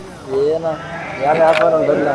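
Pregnant sheep bleat in wavering, nasal cries, two long calls close by, over a steady murmur of a crowded flock at a livestock market in Gudur.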